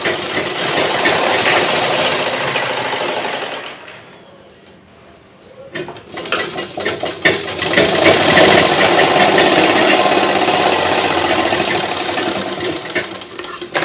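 A sewing machine stitches a fabric strip around the hem of heavy, 42-hip-size pants. It makes a dense, steady mechanical rattle that pauses briefly midway, then resumes loudly and close.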